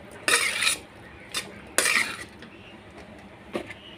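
A spoon scraping and clanking in a kadhai while stirring spicy Punjabi black chickpea curry with kasuri methi, two longer scrapes and a few light taps, close and fairly quiet.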